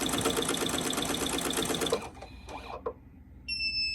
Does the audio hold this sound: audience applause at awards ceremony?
no